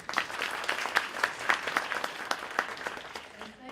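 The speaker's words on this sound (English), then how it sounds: "Please give him a round of applause" Lecture-series audience applauding guest speaker Dr. Eric Davis, a fairly soft, steady patter of many hands with a few sharper individual claps standing out, fading toward the end.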